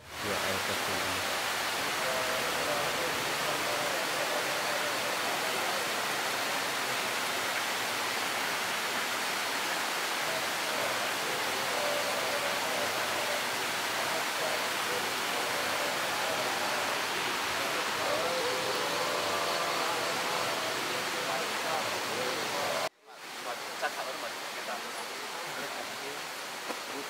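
A waterfall at a ritual bathing spot on Gunung Wuluh, used for night bathing rites, pours in a dense, steady roar for the whole stretch, broken by one brief dropout near the end.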